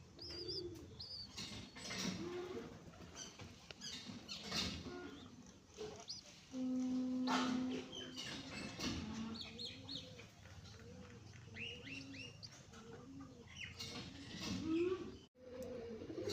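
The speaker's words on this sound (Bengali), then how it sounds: "ডাকটা কি আমার জালালি কবুতরের" Jalali pigeons coo softly and low in a quiet, faint backdrop. A person talks intermittently over them.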